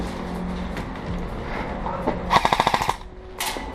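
Airsoft guns firing during a skirmish game: a rapid burst of about eight sharp mechanical shots in quick succession, close and loud, preceded by outdoor background noise and a faint voice.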